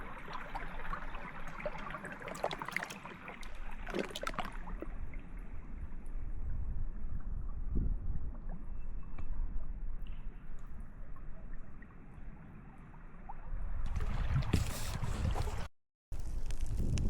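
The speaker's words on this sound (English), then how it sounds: "the wind is picking up" Wind blows steadily outdoors in Alaska in spring, a constant rushing with gusty buffeting against the microphone and louder surges near the end.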